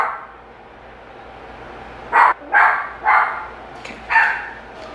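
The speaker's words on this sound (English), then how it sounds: "Oh, he's barking. I feel like my dog's gonna bark." A dog barking indoors, four or five sharp, fairly loud barks in quick succession over quiet room tone.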